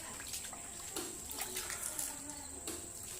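Running water splashing over hands being washed outdoors, a steady faint wash of flowing tap or stream water with small splatters, no talk over it.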